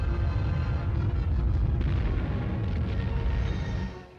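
Artillery barrage on Iwo Jima in 1945, a dense, continuous roar of overlapping explosions and rumbling booms, loud and sustained without a break before fading slightly at the end.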